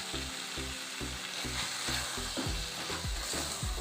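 Tomatoes frying in a pan, a dense, close, continuous sizzle with a faint background hum, steady throughout.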